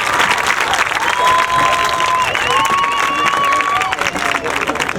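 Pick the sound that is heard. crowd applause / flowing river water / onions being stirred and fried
crowd applause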